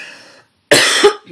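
A harsh cough bursts out loud and close from a person with lingering bronchitis, a single strong fit followed by a brief rasp, after a short silence.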